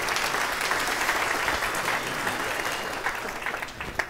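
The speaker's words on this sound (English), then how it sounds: "A big round of applause for the gentleman" Thick, close applause from a theater audience at a magic and illusion show, a dense continuous roar of clapping that tapers slightly near the end.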